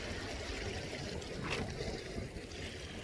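Wind blows steadily outdoors beside a pond under cloudy skies, a continuous rushing roar buffeting the microphone with no pauses.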